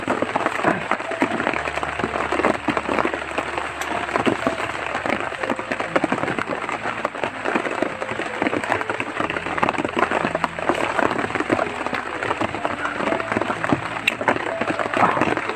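Heavy, steady rain pours without a break, a dense continuous hiss of drops on surfaces that stays loud and even throughout, with faint low rumbles beneath.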